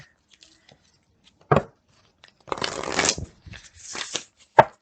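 Tarot advice cards shuffled by hand, a sharp riffle and a couple of brief papery flutters and snaps, close up with quiet gaps between.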